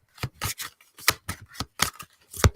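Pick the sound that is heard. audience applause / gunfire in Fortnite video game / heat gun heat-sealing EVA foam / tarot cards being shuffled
tarot cards being shuffled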